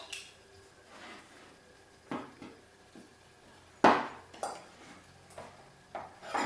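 A knife slicing through a block of lard on a board, a series of separate knocks and cuts at an uneven pace, close by and fairly quiet, one stroke landing harder than the rest, with no voices.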